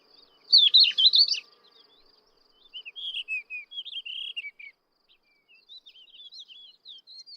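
Subalpine warblers and Thekla larks sing in bright, high trills and chirps, a burst of busy warbling followed by lighter twittering phrases, fairly close in open quiet.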